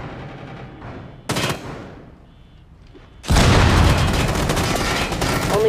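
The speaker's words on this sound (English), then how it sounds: "Throwing frag grenade." A frag grenade going off in the mobile shooter Rainbow Six Mobile, a sharp burst followed by a loud, sustained explosive roar and gunfire-like crackle filling the last half, close and intense.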